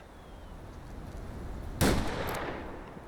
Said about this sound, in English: we're going to take a longer shot at this guy